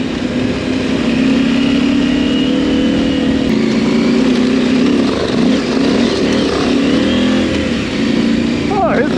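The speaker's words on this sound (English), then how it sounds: "His bike sounds more barky than mine." Dirt bike engine revving steadily while climbing a hill, a loud continuous buzzing drone close by that wavers slightly in pitch, with other riders' bikes nearby and voices talking over it.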